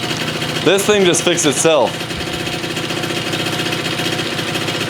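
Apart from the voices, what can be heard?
free scooter engine running after first kick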